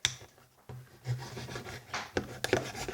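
A knife shaving the end of a wooden stick in short close scraping strokes, soft rubbing cuts with a few sharper scrapes.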